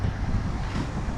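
Gusty wind buffets a microphone outdoors, a steady low roaring rumble that fills the short moment without any voices.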